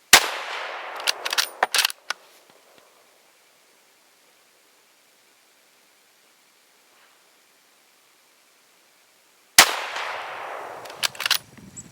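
A Ruger 77 Mark II rifle fires Norinco silver box 7.62x39 ammunition at an outdoor range: two loud, sharp shots about ten seconds apart, each followed by a brief rattling tail, with near silence between.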